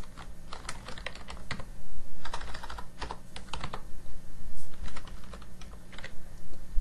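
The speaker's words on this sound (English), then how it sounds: "Type in number of deaths." Typing on a laptop keyboard while filling in a database field, with steady clusters of crisp key taps in quick bursts, close and clear with no voice.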